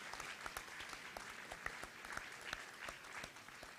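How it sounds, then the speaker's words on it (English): An audience at a secondary school graduation ceremony applauds, with a dense, even clatter of many hands clapping, heard faintly and at a distance for a few seconds. "give him a round of applause"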